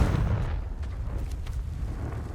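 A Confringo fire spell bursts in Hogwarts Legacy, a deep rumbling explosive boom that opens loud and fades into a low rolling roar.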